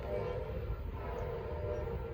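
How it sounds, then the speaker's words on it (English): An Amtrak 19 passenger train hauled by Charger locomotives passes on Norfolk Southern's Charlotte District at Gaffney, South Carolina, with a loud, steady, close rumble of wheels and engines throughout. "First time catching Amtrak 19."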